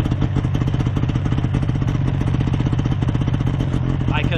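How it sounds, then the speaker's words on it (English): A Yamaha VK 540 two-stroke snowmobile runs steadily nearby, a rapid, even, popping engine chug that continues throughout with no pauses. "Yamaha's 540 VK. Great machine. Still an old smoky two-stroke."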